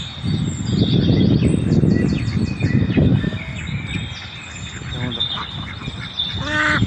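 Ducks on an artificial pond in Aspire Park, Doha, honk and quack in repeated bursts amid outdoor murmur, with voices talking in the background.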